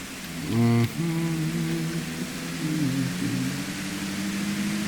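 Heavy rain falling steadily outdoors, a constant wash of hiss that carries on without a break, with a few brief tonal sounds near the start.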